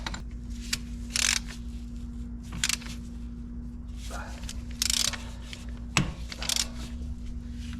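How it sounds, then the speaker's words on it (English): A ratchet on an extension bar clicks in several short bursts while breaking loose an inner tie rod, close and mechanical over a steady low hum, with a sharp crack near the end. "grab your ratchet and then let's break it apart, our inner tie rod"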